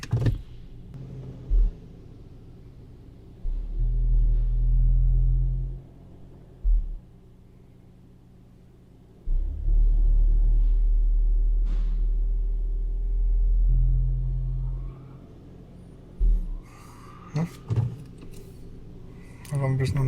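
A 2017 Hyundai Elantra drives after an engine replacement, giving a low drivetrain rumble that swells and drops in long stretches, with clicks and rattles inside the cabin and brief voices now and then.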